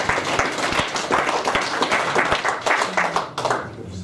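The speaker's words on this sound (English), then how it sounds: "But a quick round of applause nonetheless." A quick round of applause from the crowd at a motorsport awards night for an absent honouree, dense steady clapping throughout at moderate loudness, with brief murmurs mixed in.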